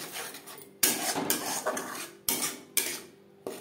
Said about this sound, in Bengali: লো ফ্লেমে 4-5 মিনিট মশলা বেশ ভালো করে কষিয়ে নেব।